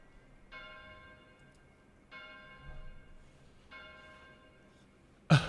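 A deep church-style bell tolls three times at an even, slow pace, each stroke ringing out and fading before the next, with a sharp knock at the very end.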